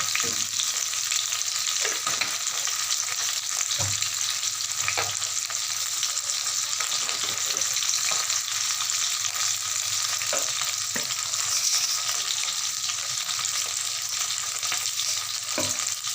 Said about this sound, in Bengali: সর্ষে, তেজপাতা ফোড়ন দিলাম